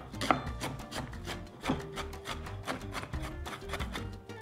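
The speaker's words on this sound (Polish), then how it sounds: "a w międzyczasie potnę cebulę" A knife chops an onion on a board, producing quick, irregular dry taps and rubbing scrapes at close range, fairly soft and with no voices.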